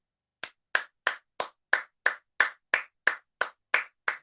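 A single person claps twelve slow, evenly spaced, crisp hand claps close by, with silence between each clap and no talking.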